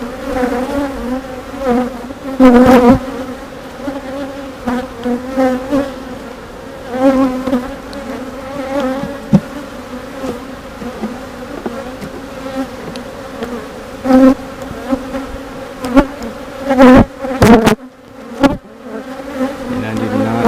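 Honeybees drone steadily around an open hive colony during an inspection of brood frames, a close, continuous buzz with individual bees swelling louder as they pass near.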